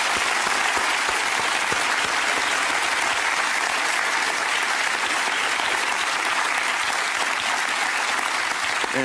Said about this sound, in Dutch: Maar wel met een geweldig applaus.